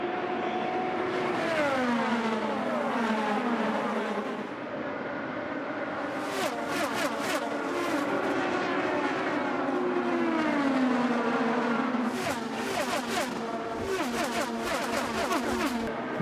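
A field of IndyCar race cars roars away at the start of the Indianapolis 500, engines whining and Doppler-shifting as they pass in a dense, continuous wall of sound, loud and sustained.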